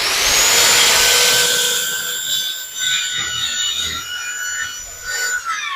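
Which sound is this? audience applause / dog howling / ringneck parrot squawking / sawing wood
sawing wood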